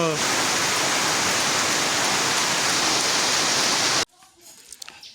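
Steady heavy rain on a monsoon day pours down as a dense, loud hiss for about four seconds, then cuts off abruptly, leaving only faint scattered sounds.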